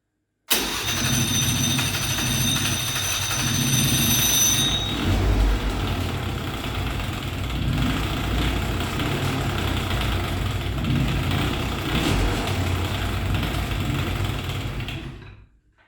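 A 2001 Hyosung Sense scooter engine, fitted with a different carburetor, starts up and settles into a steady, close idle that runs continuously for about fifteen seconds before cutting off.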